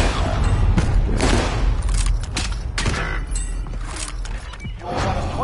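Shooter gunfire in a PS4 video game, a dense run of close shots and bursts packed into a loud, busy battle mix over several seconds.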